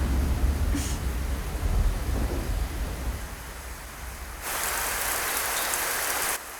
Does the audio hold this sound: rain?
yes